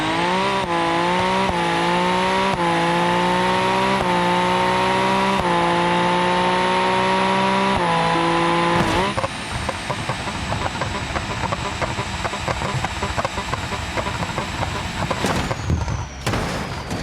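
Ferrari 458 Twin Turbo engine in the BeamNG.drive game, loud and close, revving steadily upward in repeated gear pulls for about nine seconds before giving way to a rough, crackling, noisy roar.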